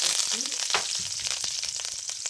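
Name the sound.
fenugreek and curry leaves sizzling in hot oil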